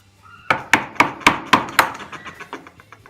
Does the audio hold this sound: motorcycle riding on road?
no